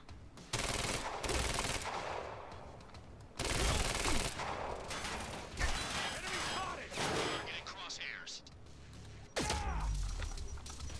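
Bursts of automatic gunfire from the video game Quantum Break come in several loud, dense volleys separated by short pauses, with crashes and impacts mixed into the close, harsh barrage.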